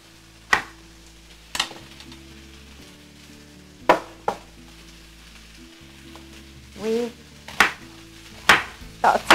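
Several sharp knife chops through red cabbage on a cutting board, spaced irregularly with quiet gaps, close and fairly loud, with a faint crunchy shredding burst near the end.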